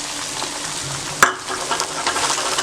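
Chopped tomatoes go into a pan of frying onions for a chickpea pulao, giving a steady close sizzle with one sharp clatter as they drop in, then stirring and crackling oil.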